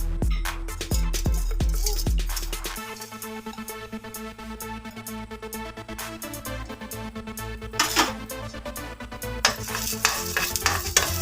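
Urad dal dropped into hot oil, first a few sharp patters as it lands, then a steady close sizzle and crackle of frying that swells again near the end.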